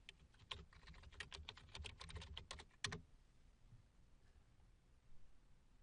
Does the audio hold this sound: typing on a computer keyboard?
yes